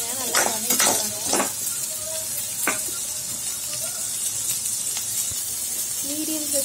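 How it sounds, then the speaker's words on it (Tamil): Small onions and garlic sauté in a pan, giving a steady low sizzle with occasional clinks and scrapes of a spoon stirring, heard close up under the background. "ரெண்டையும் சேர்த்து நல்லா வதக்கிடுங்க."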